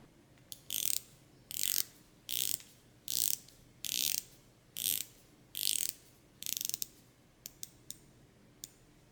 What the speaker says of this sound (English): The bezel rotation is acceptable, but on my copy, there is a bit of backplay.